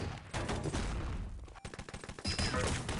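Close gunfire in the shooter Enemy Territory: volleys of rapid, crackling shots in dense bursts, with a short pause in the middle. No voices are heard over the shooting.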